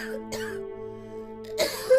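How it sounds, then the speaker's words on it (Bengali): An elderly woman in a Bengali cartoon coughs in two short, rough bursts separated by a quiet stretch, close and clear over a faint sustained background tone. "তোমার মায়ের কাশির শব্দে আমার ঘুম আসে না"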